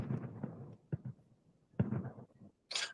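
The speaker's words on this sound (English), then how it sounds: "We're listening to all the booms" Neighbors' Fourth of July fireworks boom outdoors in a residential area with many trees. There are several distant, muffled bursts with crackling tails at irregular intervals, separated by quieter gaps.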